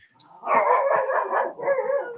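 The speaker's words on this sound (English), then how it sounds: "I've got a dog too." A dog barks and yips in a quick, loud flurry close by, carrying on for about a second and a half with only a short pause before a final burst, indoors in a home near the kitchen and garage.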